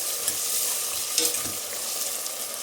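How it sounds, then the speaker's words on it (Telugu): Green chillies and onion fry in hot oil with a dense, bright, continuous sizzle and crackle. A few soft stirring scrapes sit underneath, all close and steady. "పచ్చిమిర్చి ఇవి కొంచెం ఆయిల్లో ఫ్రై అవ్వనివ్వాలి."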